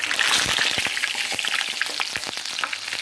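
Steady eggplant slices frying in oil with dense crackling and sharp pops, close and fairly loud, continuing without a break and with no voices.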